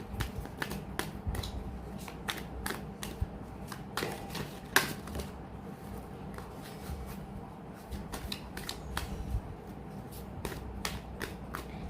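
Playing cards shuffled by hand in a steady run of crisp riffling clicks and snaps, close and fairly loud, with a brief sharper snap partway through.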